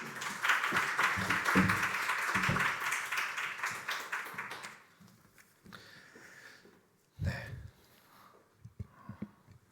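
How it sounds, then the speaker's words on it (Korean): A church congregation claps during a Sunday worship service, filling the first half with loud, dense applause that fades out, leaving quieter room sounds and a few isolated thumps. "우리 박수로 이렇게 격려했으면 좋겠습니다"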